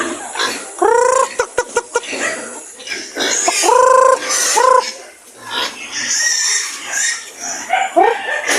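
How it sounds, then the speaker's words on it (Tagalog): Native pigs squeal and grunt repeatedly while being fed, close by, in high wavering bursts mixed with clucking fowl and clanking noises. "may balagpapakain si Joven ng ating mga alaga."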